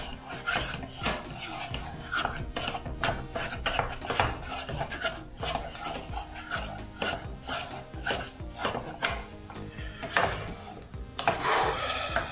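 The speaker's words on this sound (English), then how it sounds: "It is taking some vigorous stirring, huh?" A spoon stirring thick choux pastry dough for profiteroles, with vigorous, irregular rasping scrapes and thumps against the pot that keep going close up for several seconds, with no talking.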